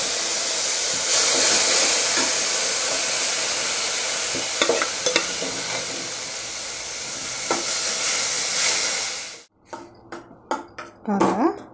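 Sliced mango and mustard seeds frying in oil in a kadai, a loud, steady sizzle and hiss for most of the time, then cutting off abruptly and giving way to scattered stirring scrapes and softer crackles.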